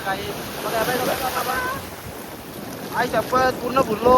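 Sea waves at Diveagar beach wash in with a steady roar and gusting wind buffeting the microphone, while people talk nearby.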